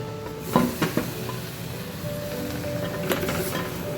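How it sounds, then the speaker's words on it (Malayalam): Tomatoes and spice powders sautéing in a pan for a tomato curry, a steady soft sizzle with a few sharper stirring scrapes and clinks, close and alone without talk. "തക്കാളി ഇട്ട ശേഷം 2 മിനിറ്റ് ഒന്ന് വഴറ്റി കൊടുത്താൽ മതി"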